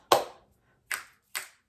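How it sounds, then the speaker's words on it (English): One hand clap followed by two sharp finger snaps, crisp and close, each a single dry crack separated by short pauses in a quiet room. "A little clap snap for good practice."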